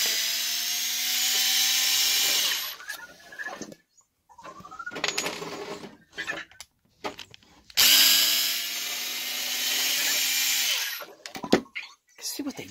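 Screws being removed from the back of a HoBao Hyper TT RC car chassis with a power driver, two loud whirring bursts of several seconds each with shorter spins, clicks and a little handling between them, up close.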